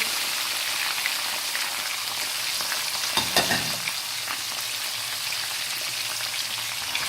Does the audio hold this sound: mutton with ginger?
yes